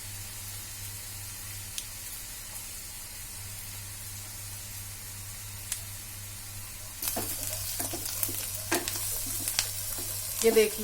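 Onion frying in a pan for stuffed okra sabji: a faint low hum at first, then a brighter sizzling hiss with occasional stirring clinks as a voice speaks briefly.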